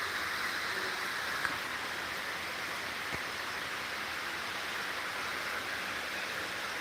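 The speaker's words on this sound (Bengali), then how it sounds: "প্রচুর মেঘ জমে আছে বৃষ্টি মনে হয় আরও অনেকক্ষণ পড়বে" Heavy rain falls beneath thick clouds in Chittagong, Bangladesh, producing a continuous broadband wash of water noise with a couple of faint, brief knocks in the background and no voices.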